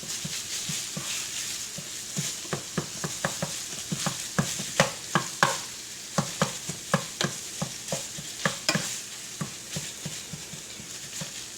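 Sausage browning in a pan, a continuous sizzle punctuated by repeated sharp scraping strokes of a utensil stirring and breaking up the meat, close and fairly loud, with no voices.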